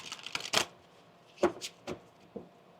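Tarot card shuffling in a few quick riffling bursts with short pauses between, close and fairly soft, no talking.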